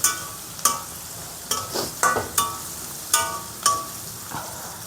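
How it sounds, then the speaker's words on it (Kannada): Vegetable fried rice with fried rice powder stirred in a pan, a soft steady sizzle broken by repeated scraping and clinking strokes of a spatula against the metal, close and irregular, with no talking. "ಫ್ರೈಡ್ ರೈಸ್ ಪೌಡ್ರ್ ಹಾಕ್ಬಿಟ್ಟು ಈ ಥರ ಎಲ್ಲ ನೀಟಾಗಿ ಮಿಕ್ಸ್ ಆಗಬೇಕು."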